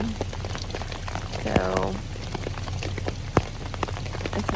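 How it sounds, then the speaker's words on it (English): Steady rain falls in an outdoor setting during a flood in the Ozarks, a continuous broadband hiss with scattered drops, while a person speaks briefly over it. "It is very rainy, and we are gonna have to put up in the rain."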